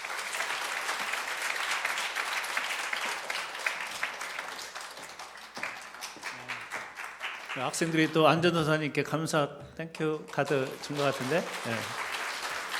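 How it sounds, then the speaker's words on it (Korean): Applause from a Korean Presbyterian church congregation in Kansas, steady clapping for several seconds that gives way to people talking over a fading patter of claps. "다시 한번 격려 박수 해주시고요."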